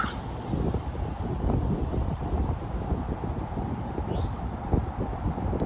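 Wind buffets a microphone outdoors, producing a steady, close, low rumbling roar with gusty fluctuations throughout.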